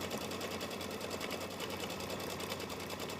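An embroidery machine stitching a quilt block runs in a fast, even, continuous mechanical whir with rapid regular needle strokes, close and alone.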